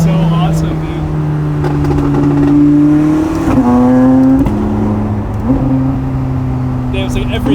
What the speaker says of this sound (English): Minivan revving, I love it.